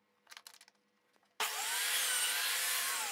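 A saw cuts through a piece of wood on a small cross-cut sled with an adjustable fence, a loud steady whine starting abruptly after a few faint handling knocks and running on alone.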